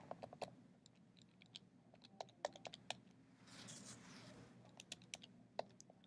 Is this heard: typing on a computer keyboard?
yes